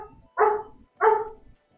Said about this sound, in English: I do apologize for the barking in the background.